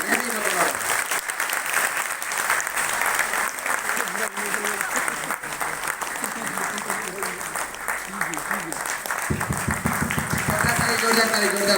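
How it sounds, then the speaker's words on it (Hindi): Loud, sustained audience applause at a Modicare business gathering, a continuous dense wash of clapping from a crowd, with a voice rising over it near the end. "जोरदार ताली।"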